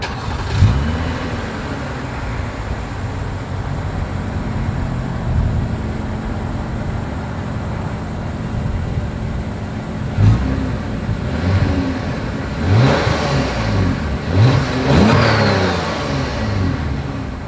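A 2023 Lexus ES 350 engine idles, then revs sharply several times in bursts, the exhaust note rising and falling loudly up close.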